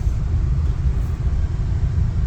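Steady low engine and road rumble inside a Renault Fluence with a CVT transmission on a test drive after a transmission fluid change, a smooth continuous drone without distinct gear shifts or voices.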